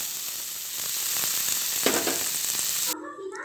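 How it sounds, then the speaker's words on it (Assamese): Spices with ajwain and two small chopped tomatoes fry in a pan for an Assamese kundru curry, giving a steady, close, loud sizzle that drops away abruptly near the end. "মোৰ মছলাখিনি ফ্ৰাই হৈ গৈছে।"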